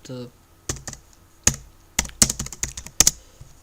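Typing on a computer keyboard at a desk, a string of sharp, close key clicks in uneven bursts, with a voice speaking briefly at the very start.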